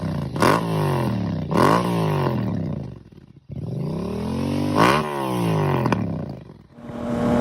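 A Yamaha MT-09 motorcycle is ridden on the road, its engine revving up through gears in rising, roaring pulls with brief dips between shifts, loud and close throughout.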